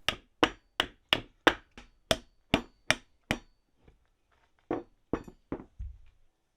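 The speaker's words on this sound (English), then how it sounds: "These just push into place with a little extra persuasion." Repeated hammer taps seat Triumph TR7 steering column bushes: about a dozen sharp, close metallic knocks in a steady rhythm, then a short pause and a few more blows, with no talking.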